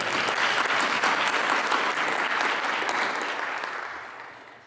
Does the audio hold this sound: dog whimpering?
no